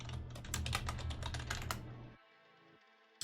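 Rapid clicking keystrokes on a Logitech G413 mechanical keyboard, a quick close run of presses that stops abruptly, leaving faint background hum.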